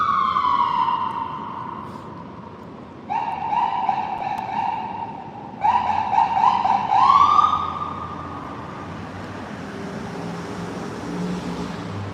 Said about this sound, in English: Let me let the ambulance pass.